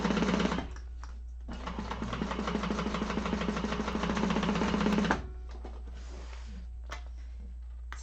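A sewing machine stitches a 5/8-inch seam on an Alexandra bag, running in one steady, rapid mechanical rattle for about four seconds. Quiet pauses come before and after it, with a low constant hum underneath.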